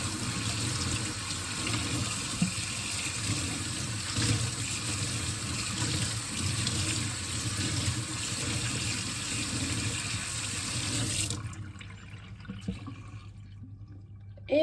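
Dyed socks are rinsed under a running tap, a steady close rush of water splashing in a sink that cuts off abruptly near the end, leaving near silence, no talking.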